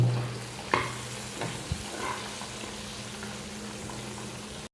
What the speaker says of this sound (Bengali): এখন মাছটি ভাজবাম কোথা